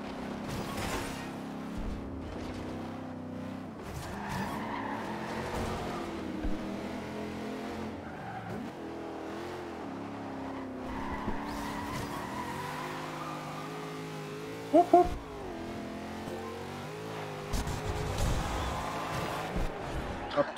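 An American car driven in Forza Horizon 2, its engine droning and revving steadily with shifting pitch and occasional tire squeals, continuous and fairly loud, with a voice commenting over it.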